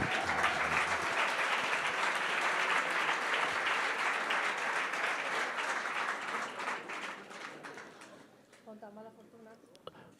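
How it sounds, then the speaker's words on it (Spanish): A television-show studio audience breaks into loud, dense applause that holds steady, then thins and fades out over the last few seconds as a voice begins to speak. "Un aplauso para Dani Mateo, estrella de la televisión"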